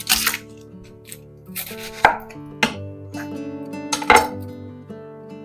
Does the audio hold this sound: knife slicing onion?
yes